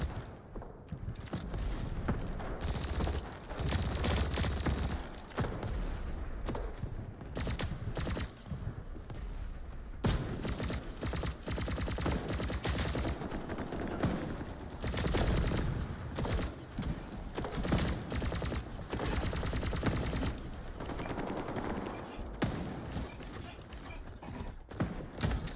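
Rapid gunfire from weapons in the video game Diabotical Rogue, dense and continuous throughout with overlapping bursts and mechanical clatter, loud and close.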